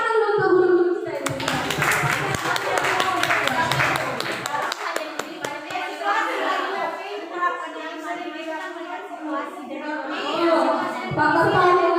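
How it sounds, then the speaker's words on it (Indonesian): Applause for teachers at a school gathering, a burst of clapping from a group that swells loudly and then fades, with voices talking and chattering around it. "Tepuk tangan dulu untuk guru-guru kita ini."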